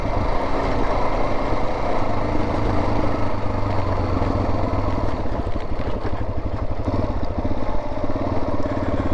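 Motorcycle engine on the Utah Backcountry Discovery Route trail, a steady, loud drone held throughout with a throbbing rhythm as the bike rides on, no voices.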